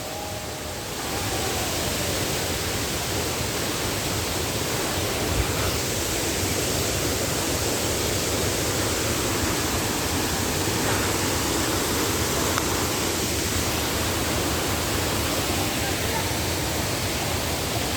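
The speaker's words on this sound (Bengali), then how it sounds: "দেখেন কত উঁচু থেকে পানি পড়তেছে, কত বিকট শব্দ।" Baklai waterfall in Bandarban, water dropping from a great height, roars as a loud, dense, unbroken rush that fills the whole stretch without letting up.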